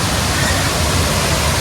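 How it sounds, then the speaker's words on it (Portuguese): A low, rocky waterfall on a river rushes in a steady, loud broadband roar, close by and unbroken throughout, with no other sounds standing out. "E a cachoeira está ali, ó, bem de frente pra gente, que ela é baixinha, bastante pedra"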